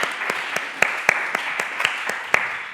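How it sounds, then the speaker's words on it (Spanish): Scattered audience applause at a talk about humour and satire, a thin crowd clapping with a few sharp, distinct claps standing out in an irregular rhythm over a soft hiss. "un aplauso para Miguel Ángel Aguilar."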